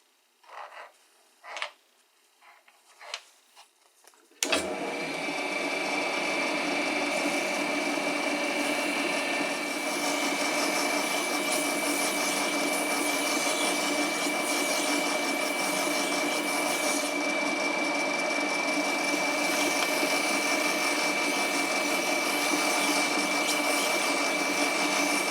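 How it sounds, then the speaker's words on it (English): Derby car axles are polished with high-grit sandpaper, 600 to 2000, on a spinning power tool, giving a steady whirring hum with a broad rubbing hiss that runs unbroken for about twenty seconds after a few brief knocks. "I'm going to polish the axles using high grit sandpaper ranging from 600 to 2000 grit"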